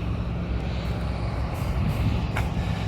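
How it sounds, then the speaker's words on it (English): A jet aircraft passes overhead as a steady, broad low roar that holds at constant loudness throughout, heard outdoors near a small homebuilt plane. "There's that noisy jet coming by again."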